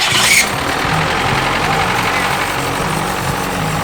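A forklift engine rigged into a semi truck catches and settles into a loud, rough, steady low idle after a brief starting burst.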